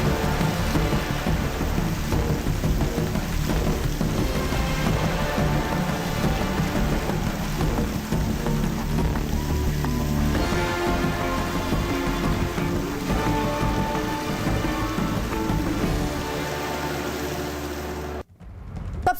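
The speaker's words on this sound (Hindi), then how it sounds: "मुंबई के कई इलाकों में आज सुबह से ही तेज बारिश हो रही है।" Heavy rain pours over Mumbai in a dense, steady roar with deep rumbles that resemble thunder underneath, loud and continuous until it cuts off abruptly near the end, with no voices.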